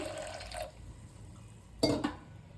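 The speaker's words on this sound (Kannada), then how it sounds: "ಕಡಲೆಕಾಳು ಮುಳುಗೋಷ್ಟು ನೀರು ಹಾಕ್ತೀನಿ" Water is poured into a cooker over chickpeas, heard as two short, splashy fills with a quiet pause between, close by and with no talking.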